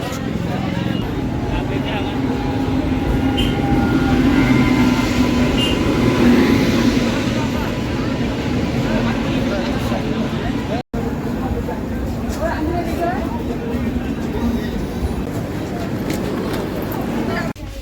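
A passenger train pulls out and runs along, a steady low rumble and rattle of wheels and carriages heard from inside the train, with people talking over it throughout.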